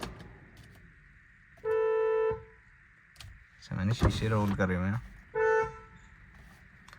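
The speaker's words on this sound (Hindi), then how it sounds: "भाई, इसका इतना लाउड हॉर्न है।" A Hyundai Creta's car horn gives two loud, steady honks a few seconds apart, with someone speaking between the blasts.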